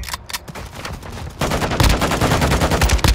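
Gunfire in the video game Call of Duty: Modern Warfare II, with a few sharp isolated shots followed by a loud sustained burst of rapid automatic fire.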